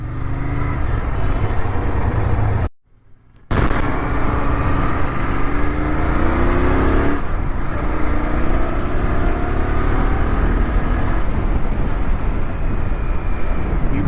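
A Royal Enfield Interceptor 650 motorcycle with a wobbling handlebar rides along a road, its engine drone buried under loud, steady wind rush that cuts out briefly for a moment before resuming, with no talking.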